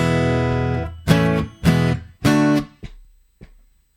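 Guitar playing standard open-position chord changes from a song: a held chord, then a few sharp strummed hits and short choppy stabs that die away into silence, close and clear.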